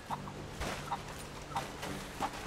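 Chickens near a coop in the video game Rise of the Tomb Raider, soft repeated clucks at a steady pace over a low background hum.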